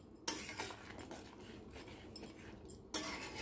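A spoon scrapes and clinks against a pan while cashew paneer in mustard sauce is stirred and mixed, with two sharp metallic knocks and faint scraping in between, quiet overall.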